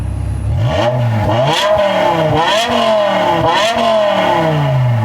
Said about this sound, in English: That's stock exhaust.